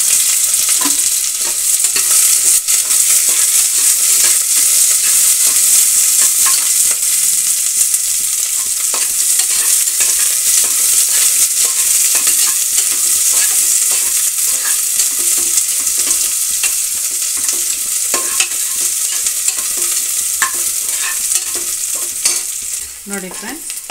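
Chopped onions fry in a pan for vegetable pulao, a steady loud sizzle running unbroken with occasional stirring scrapes, and no voices.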